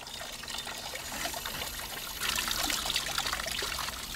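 Water trickling from a healing spring in Germany, a close, steady dribbling and splashing flow that grows fuller and louder halfway through, with no voices.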